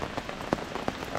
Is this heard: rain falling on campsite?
yes